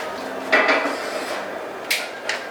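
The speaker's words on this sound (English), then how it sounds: "And then I'll put this on the stove and I'll let it boil." A pot of water set on a stove while making seafood ramen, a few close metallic clunks and knocks of cookware against the burner over quiet room tone, with no talking.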